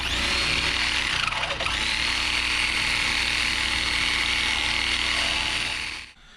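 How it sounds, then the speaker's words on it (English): A Sawzall reciprocating saw cuts through a seized bolt during an OBS Ford 05+ axle swap, a loud steady buzzing drone close up that runs for about six seconds before the blade stops. "So let's get that sawzall."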